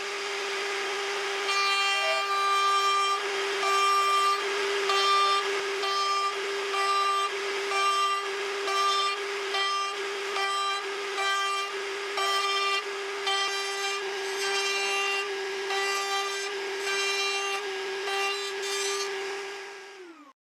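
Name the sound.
router with attachment cutting a rabbet in an oak frame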